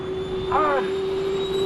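An airplane in flight with a stuntman clinging to its outside gives a loud, steady engine drone with a sustained tonal hum, and a brief vocal sound rises over it.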